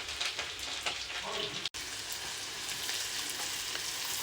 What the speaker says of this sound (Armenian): Մինչև սոխը եւ սխտորը կտապակվի